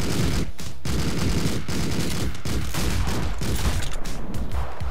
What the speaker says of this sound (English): time to go ham with the machine gun